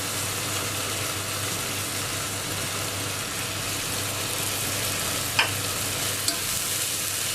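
Garlic and onions fry in a pan with a steady, even sizzle for quiche Parisien, and a couple of faint clinks near the end.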